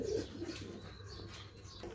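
A male pigeon, just up from its eggs and puffing itself out, coos in low, throaty, faint rolls, with no talking.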